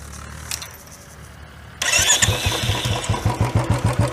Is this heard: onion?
no